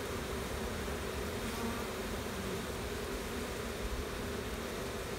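A dense, steady buzzing drone of many honey bees at a hive during a fall inspection, fairly faint and continuous throughout, with no voices.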